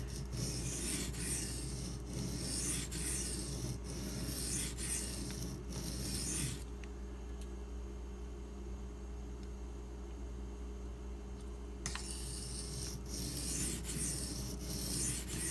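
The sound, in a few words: sharpening a D2 steel knife on a Suehiro silicon carbide stone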